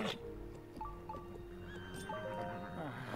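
A horse neighs and whinnies in The Legend of Zelda: Tears of the Kingdom, the call rising and falling over soft clip-clop hooves and background game sounds, with a voice speaking alongside it.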